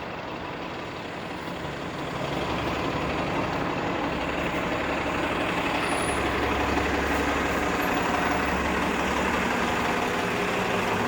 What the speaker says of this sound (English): There's the 65 Parliament bus.